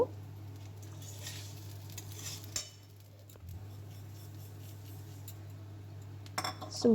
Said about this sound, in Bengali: চিনি দেওয়ার পর আবার হালকা হাতে আমি নাড়ব।